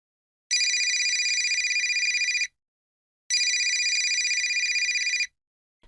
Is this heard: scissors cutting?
no